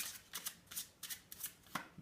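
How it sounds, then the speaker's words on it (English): Playing cards are shuffled by hand in a quiet room, a series of soft, quick riffling bursts and taps in an uneven rhythm, close and faint, with no voices. "I'm gonna be shuffling."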